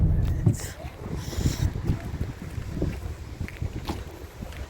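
Gusty wind buffets the microphone in low rumbling bursts outdoors on a rainy, not very cold day in Germany, with faint indistinct voices in the background.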